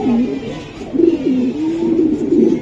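A racing pigeon coos in low, rolling phrases, repeated several times at close range over a dim background.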